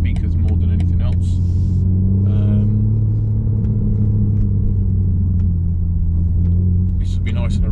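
Low engine rumble and exhaust burble from a BMW M4 Competition, steady and close throughout, with a few light clicks and a brief higher-pitched flutter over the drone and no talk.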